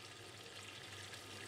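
Layered breaded steaks with mushrooms frying in vegetable oil in a preheated pan, giving a faint, steady sizzle with a low hum beneath it.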